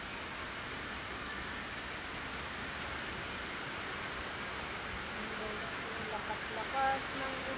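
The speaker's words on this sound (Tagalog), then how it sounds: "Lakas ng ulan." Heavy rain from super typhoon Nando pours onto a small hut in a steady, dense hiss that never lets up, close and even throughout.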